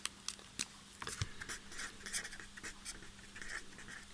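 Marker or chalk writing a heading on a classroom board, a series of short scratchy strokes and taps, faint and fairly close, with no talk over it.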